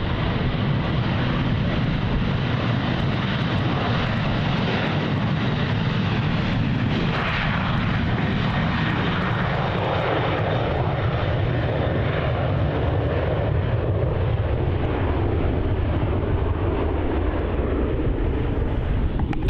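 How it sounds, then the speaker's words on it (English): A Virgin Australia Boeing 737-800 takes off from taxiway Juliet at Melbourne Airport, a loud, sustained jet engine roar holding steady for the whole stretch with wind buffeting the microphone and no voices. "we have a departure taking off from taxiway Juliet here. It's going to be the Virgin Australia 737-800."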